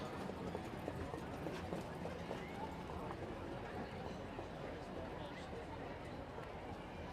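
Harness racing horses in the post parade at Celina, Ohio, their hooves clip-clopping on the track in a steady running rhythm, faint and distant beneath continuous crowd and announcer-style voices.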